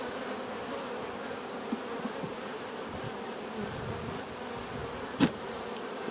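Bees hum steadily around an open eight-frame double-deep honey-bound hive, a continuous close, dense buzz with a brief louder burst near the end as one passes near.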